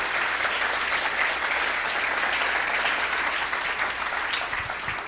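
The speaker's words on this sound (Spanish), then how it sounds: "A nuestro hermano Julio César, con un fuerte aplauso de ustedes." A church congregation claps loudly and continuously throughout, a dense even applause with no talking over it.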